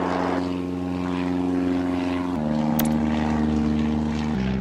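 Propeller airplane engine droning steadily during takeoff in the airport video game Airport Madness, a sustained tonal hum that shifts pitch slightly partway through, with no talking.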